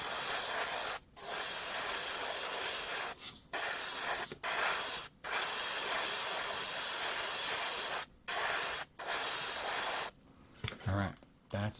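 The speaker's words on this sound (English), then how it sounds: "Let me clean up the airbrush." An airbrush sprays paint onto a 1/100 Gundam model kit in long steady hissing bursts separated by short pauses, with faint handling noises near the end.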